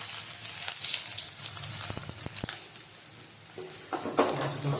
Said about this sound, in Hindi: प्याज को सबको भून लेना है।